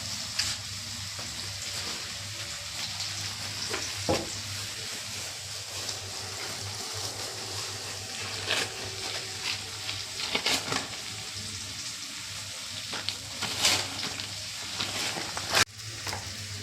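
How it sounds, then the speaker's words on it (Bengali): Sliced potatoes sprinkled with poppy seeds fry in a pan, a soft continuous sizzle broken by occasional sharp clicks and scrapes of stirring. "এদিকে রাত্রে রুটি খাওয়ার জন্য পোস্ত ছড়িয়ে যে আলু ভাজা হচ্ছে।"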